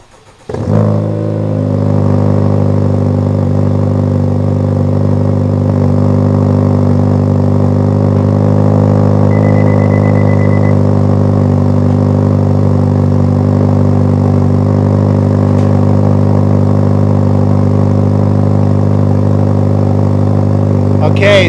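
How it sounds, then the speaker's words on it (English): A Honda Civic Type R FL5 idling with its Milltek exhaust valve closed, starting up with a sharp burst and then settling into a steady, deep, droning hum that holds evenly for about twenty seconds. "let's go ahead and turn the car on so we can see the sound differences"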